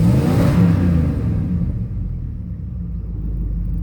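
A 1965 Dodge 880 Custom engine running, a loud low rumbling idle that swells briefly at the start then settles into a steady, even drone, close by with no talking.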